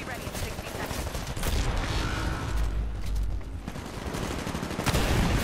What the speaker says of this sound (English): shoot him, and drop an arc grenade on him